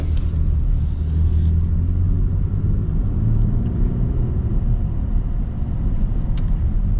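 A lifted Nissan Frontier Rocky Ridge pickup cruising on the road gives a steady, loud interior rumble of engine and tire noise that stays even throughout.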